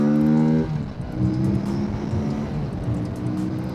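Aprilia Tuono 457 motorcycle engine running steadily at speed, a loud continuous throaty drone after a brief rising note, close and alone with no talk.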